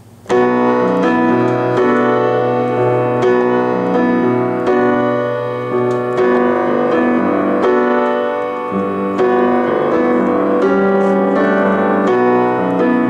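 A piano plays the verse of a song with both hands at full tempo, sustained chords and a moving melody ringing out close and clear, without any voices.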